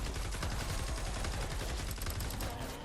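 Sustained, loud automatic fire from the Nocturno gun in Fortnite Save the World pounds steadily and without a break for the whole stretch.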